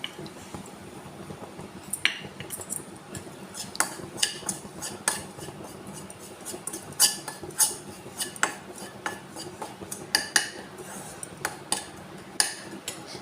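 Coriander roasts on a low flame in a pan, heard as soft dry crackles and sharp spoon clicks and scrapes against the metal, irregular and close, with no talk.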